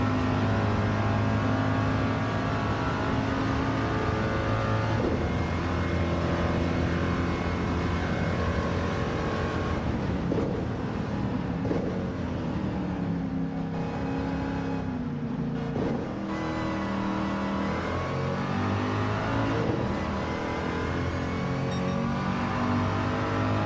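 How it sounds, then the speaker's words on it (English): A race car engine at Le Mans roars loudly and steadily, its pitch rising and falling as it revs through the gears, with no talk over it. "Now I'm going to be quiet and just listen to the engine."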